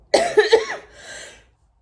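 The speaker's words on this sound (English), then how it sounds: "I have not had a cough like this for, I said, like about 10 years" A person coughs three times in quick, harsh bursts close to the microphone, followed by a softer raspy breath as it trails off.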